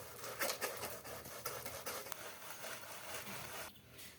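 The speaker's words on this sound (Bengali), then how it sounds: "তালের আটিটা ঘষে নিয়েছি আর এর থেকে তালের রস অনেকটাই বেরিয়ে গিয়েছে" Softened palm fruit kernel rubbed against a perforated metal plate, a close, soft, continuous scraping and patting rhythm with small bursts, fading out at the end, with no talk.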